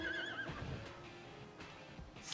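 A horse whinnies once with a wavering high call near the start, followed by lower snorting and background rustle.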